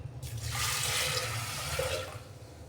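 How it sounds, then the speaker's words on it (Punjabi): A glass of water poured over washed lentils in a pressure cooker for dal makhani, a steady splashing pour lasting about two seconds, close and fairly quiet, with no voices. "ਇਹਦੇ ਵਿੱਚ ਐਡ ਕਰਾਂਗੇ 1 ਗਲਾਸ ਪਾਣੀ"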